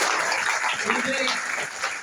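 Applause from a meeting audience at a company gathering, a dense steady wash of clapping lasting about two seconds, with voices mixed in underneath.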